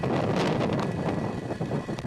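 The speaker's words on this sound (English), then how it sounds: "Engines full power. And liftoff of Starlink 2-4." A SpaceX Falcon rocket lifting off with Starlink satellites, a loud continuous roaring rumble with crackling, buffeting texture like wind on a microphone, steady throughout the short stretch.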